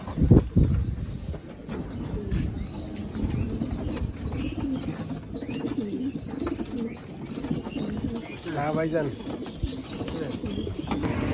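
Pigeons cooing among a busy outdoor crowd, with people talking nearby and general street bustle throughout.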